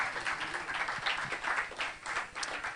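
A congregation claps in a steady, moderately loud burst of applause, with scattered cheers mixed in and no speech.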